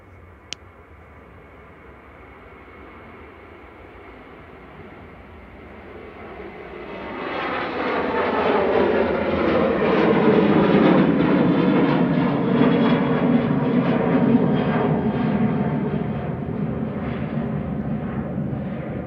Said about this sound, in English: This is Ryanair departing to Dublin with flight 1900 RGRUKB operating this flight.